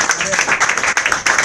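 A congregation at a church service claps in a burst of dense, close applause with overlapping cheers and voices, loud throughout the brief moment.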